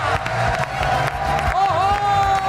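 A studio audience cheers and claps for a guest's entrance on a Pakistani comedy talk show, a dense wash of crowd noise with whoops under an energetic host's voice and background music.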